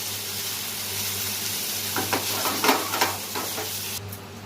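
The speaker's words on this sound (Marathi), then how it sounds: "फ्राय करायचे थोडेसे फ्राय करायचे" Frying in a pan for malai paneer makes a continuous close sizzle with a low steady hum beneath, while a burst of spatula scrapes and clinks comes through the middle, then the hiss carries on.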